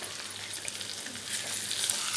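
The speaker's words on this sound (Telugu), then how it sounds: "అటు ఇటు కూడా ఫ్రై చేసుకుంటే సరిపోతుంది" Korameenu fish frying in hot oil with coriander, curry leaves and green chillies as garnish hisses in a loud, dense, continuous sizzle, close up and with no voices.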